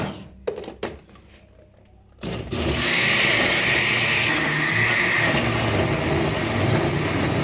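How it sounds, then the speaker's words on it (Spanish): A blender grinds onion, garlic and avocado leaf. A few clunks and brief noises come first, then the motor starts and whirs loud and steady to the end. "Y aquí está nuestra cebolla y nuestro ajo. Vamos a moler."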